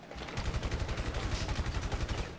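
Rapid automatic gunfire in GTA V Online, a first-person deathmatch inside a factory: a quick burst of evenly spaced shots rattling for about two seconds, loud and close.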